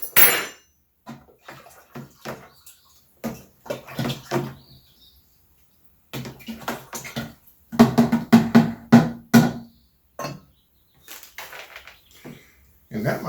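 Wet stirring and clinking from a spoon working orange wine must with dissolved Campden tablets, intermittent sloshes and scrapes close by, broken up by pauses and mixed with scattered talking.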